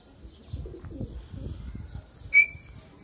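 Pigeons in a neighbourhood coo in soft, low, repeated murmurs, followed by one sharp, brief chirp near the end.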